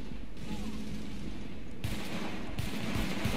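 Gunfire in the video game The Division crackles in rapid bursts of shots behind a background bed, with a sharper volley near the end, while players talk.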